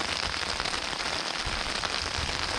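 Heavy rain pours steadily during a storm in rural Thailand while people are out fishing, a dense, continuous hiss of drops on surfaces with no speech over it.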